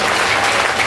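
An audience at a Srimad Bhagwat Katha religious gathering claps loudly for the musicians, a brief, dense burst of applause heard up close.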